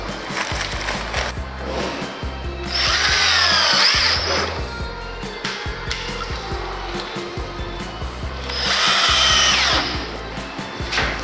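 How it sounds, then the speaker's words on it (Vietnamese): A power drill whirs in two long bursts as it drives screws into a water-resistant wood-plastic composite door frame being installed for a toilet, with clinks and tool handling between the runs. "Sau khi ta bắn ốc xong"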